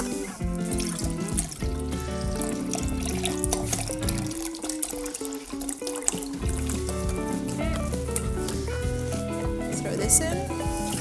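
Chicken stock from a store carton pours into a soup pot for Greek lemon chicken soup, a steady liquid trickle and splash running continuously under background music.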